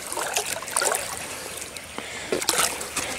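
Water trickles and splashes into a bucket while plants are watered by hand, a close, uneven dribbling with small spatters and no talk.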